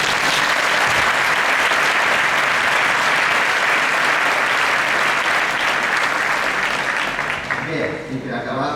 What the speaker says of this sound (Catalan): Per tots ells us demanaria un gran aplaudiment.